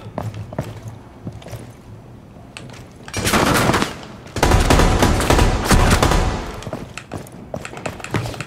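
Gunfire from the tactical shooter Rainbow Six Siege, with faint scattered shots early on, then loud dense bursts of rapid automatic fire in two clusters, trailing off into lighter, sparser shots.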